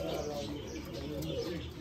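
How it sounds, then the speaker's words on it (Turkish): Pigeons cooing inside a coop with nest boxes, soft low coos under a busy background of other sounds and faint voices. "Maşallah diyelim güvercinlere."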